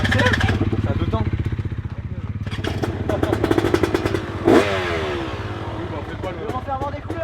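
A two-stroke motocross motorcycle engine revs in sharp rising and falling bursts, loud and close with a clattering edge, amid a busy indoor motor show crowd.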